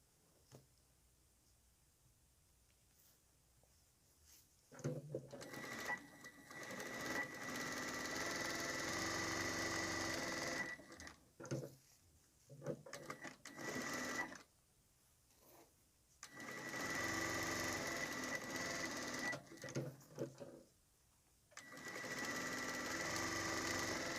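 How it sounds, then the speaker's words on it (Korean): A home sewing machine runs in repeated bursts, stitching a seam along the seam-allowance line on cotton fabric for a square tissue box cover, with brief pauses between runs and no talking. "한 바퀴 시접선 줄에서요 박음질 해 놓겠습니다"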